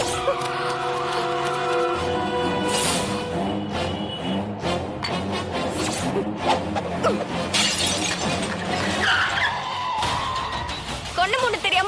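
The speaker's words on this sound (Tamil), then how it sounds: "இப்ப யாருக்கு என்ன ஆச்சுன்னு கார் கண்ணாடியை உடைச்சா?" Car window glass shatters in a Tamil TV drama scene, loud crashing breaks mixed with dramatic music and shouting voices.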